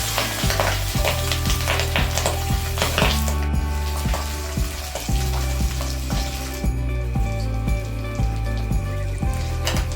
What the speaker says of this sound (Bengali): অল্প হলুদ দিয়ে মাছগুলো ভেজে নেব